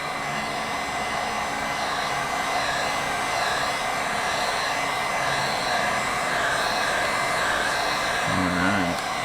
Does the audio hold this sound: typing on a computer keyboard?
no